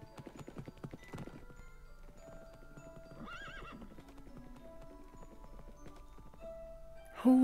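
Horse hooves clip-clop through a Minecraft Dungeons game scene, a steady moderate-level patter of game-style steps amid background music, with a whinny and a louder sound burst near the end.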